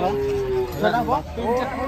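A cow lets out a low drawn-out moo, followed by shorter lowing calls, nearby with some background noise.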